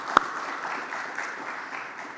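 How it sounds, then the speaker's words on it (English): Audience applause at a health and wellness tourism conference, a steady mass of clapping from a room of people at moderate volume, with one sharp close clap near the start. "let us give him a round of applause"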